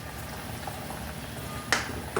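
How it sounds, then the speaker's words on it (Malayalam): A dish simmers in a clay pot just after a little raw coconut oil is poured in, giving faint, steady bubbling with a couple of sharper pops near the end. "മൺചട്ടി ആയത് കാരണം തിളച്ചുകൊണ്ടിരിക്കുന്നുണ്ട്"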